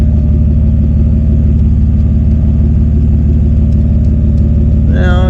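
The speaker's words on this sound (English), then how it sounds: "The compressor sounds like it's probably getting weak" A portable air compressor drones steadily and loud while inflating car tires, its motor sounding weak, a continuous pulsing hum running throughout with a brief rising whine near the end.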